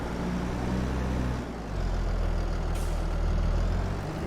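A tractor in Farming Simulator 22 drones steadily as it backs up, a continuous low engine hum that shifts pitch slightly partway through, with no talk over it.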